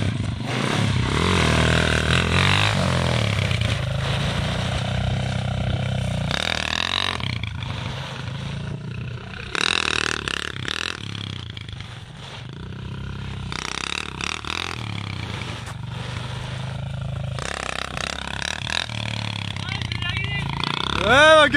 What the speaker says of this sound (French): Ouais, il marche bien le quad